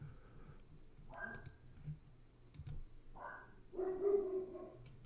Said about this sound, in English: If you hear my dogs barking up there